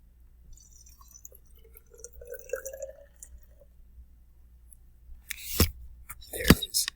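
Water being fetched for a lab experiment: faint clinks and handling noises first, then a few loud, close splashy bursts of running or pouring water near the end.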